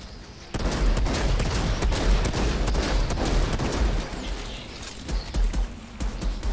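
Rapid automatic turret gunfire in the Outriders shooter game, dense bursts of loud cracking shots running almost continuously with heavy low thumps, a brief quieter gap at the start.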